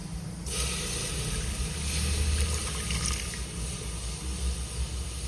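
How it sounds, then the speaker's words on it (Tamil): Steady watery hissing and trickling as about 100 ml of water is poured into a hot pan to dissolve jaggery, continuous and fairly close, with no voices. "ஒரு நூறு மில்லி தண்ணி போடுவோம்"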